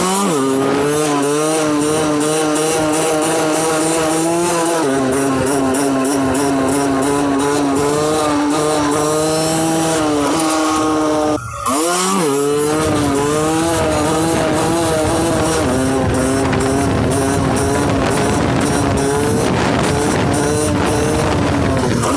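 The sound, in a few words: motorcycle accelerating in fifth gear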